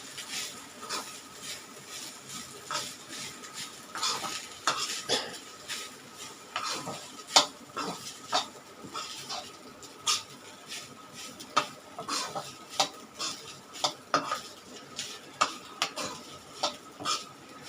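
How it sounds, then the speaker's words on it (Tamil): A spoon scrapes and clinks steadily against a pan as garlic with leftover rice is stirred over a low flame, soft irregular knocks at close range with a faint sizzle underneath. "ஃப்ளேம் ஸ்லோலியே தாங்க இருக்குது இதை நல்லா மிக்ஸ் பண்ணிடலாம்"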